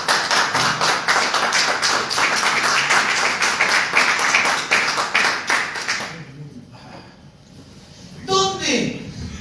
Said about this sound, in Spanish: Dale un aplauso entonces al Señor.